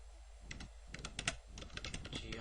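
Keys clatter on a computer keyboard as tool and collision geometry names are typed in, a quick, uneven run of light, close clicks with no voices.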